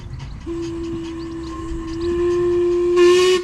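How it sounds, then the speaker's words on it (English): A miniature steam train's whistle on the Bure Valley Railway sounds a long, steady tone close by as it arrives, over the rumble of the engine, with a burst of hissing steam at the end. "coming in from Walsham on the Bure Valley Railway service"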